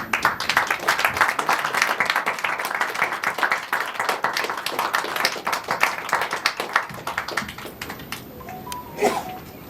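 Sustained applause from a crowd at a film success press meet, dense clapping that thins out toward the end, with a few faint voices mixed in.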